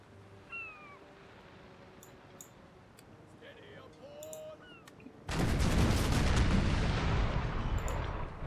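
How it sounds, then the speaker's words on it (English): Ship cannons fire a broadside in the video game Napoleonic Total War III, a sudden loud roaring blast that sustains for several seconds after a quieter stretch of game sounds and cat-like meows. "hopefully like one broadside from each of these ships might be enough"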